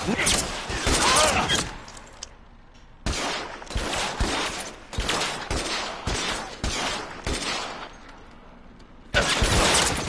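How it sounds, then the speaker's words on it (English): A Tommy gun fires in the L.A. Noire video game in sharp, loud bursts of rapid gunfire separated by brief pauses, with someone talking in between. "Oh, he has a Tommy gun."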